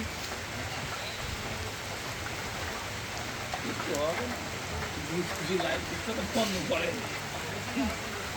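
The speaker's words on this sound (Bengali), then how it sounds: "অবশেষে বৃষ্টি দেখা যাচ্ছে" Rain falls in a steady hiss on surfaces outdoors, with a person talking faintly underneath the wash of the downpour.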